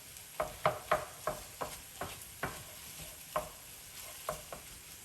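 A spoon stirs cream cheese enchilada sauce in a hot pan, giving a series of soft scraping clinks at an irregular rhythm over a faint steady sizzle, close and fairly quiet.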